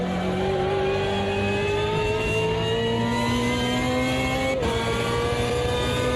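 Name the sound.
car engine revving in racing video game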